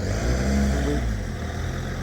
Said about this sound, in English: Cars on the go still with the speed bumps.